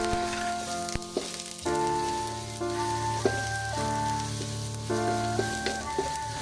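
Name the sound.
garlic sizzling in hot cooking oil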